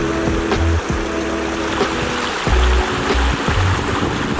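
Roaring Brook Falls, a 300-foot waterfall in the Adirondacks, pours in a steady broadband rush of falling water, loud and continuous throughout with a few low thumps and rumbles mixed in.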